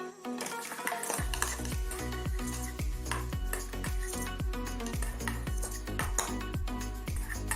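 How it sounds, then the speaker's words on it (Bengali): Raw pointed gourd mash is stirred and mixed by hand in a bowl, giving repeated regular scraping and clinking strokes about twice a second. The sound stays close and steady. "ভালো করে মিক্স করে নেব।"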